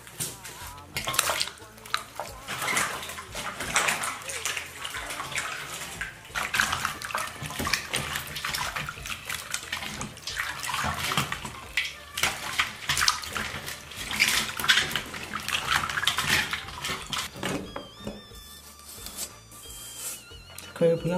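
Tap water runs steadily over wide stalks of large celery being rinsed in a kitchen, a continuous washing splash with clatter of dishes, while people talk over it throughout.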